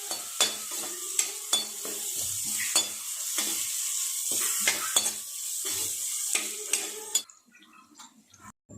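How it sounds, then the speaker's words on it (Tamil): Onions sautéing in a pan for radish sambar with asafoetida, a soft sizzle under repeated sharp scrapes and clinks of a spoon stirring against the pan, then a quieter stretch at the end. "வெங்காயம் நல்லா பொன்னிறமாக வதங்கி வரட்டுங்க."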